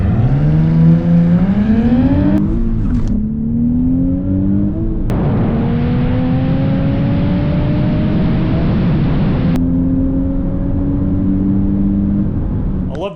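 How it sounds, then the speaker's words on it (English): A 2026 Nissan Z with a Tomei Expreme titanium single exhaust revs repeatedly, its pitch climbing and dropping with each throttle blip, loud and close with a steady broadband roar and no voices. "we put on the Tomei Expreme titanium exhaust"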